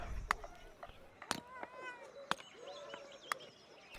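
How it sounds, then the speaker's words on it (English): A cat meowing in the video game Pentiment, several short rising meows between sharp clicks, with a person speaking briefly alongside. "Kitty."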